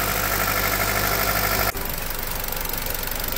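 A Jeep Patriot engine idles with a steady, close mechanical drone after a cold start in -40 degree weather, then the sound drops abruptly partway through to a quieter, rougher running tone.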